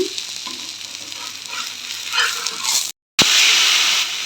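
Masala ragi dosa batter fries on a hot pan, giving a continuous close sizzle with light scraping and stirring sounds, cut by a short gap before the sizzle resumes at full strength.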